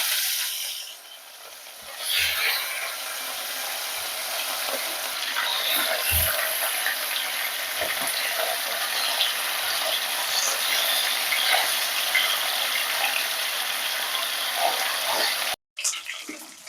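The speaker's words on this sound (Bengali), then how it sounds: "তেলটা গরম হয়ে গেছে ভালোভাবেই, তো মাছগুলো আমি দিয়ে দিচ্ছি।" Fish sizzling as it fries in hot mustard oil for a coriander fish curry, a steady close hiss and crackle running throughout with a few brief knocks and a short break near the end.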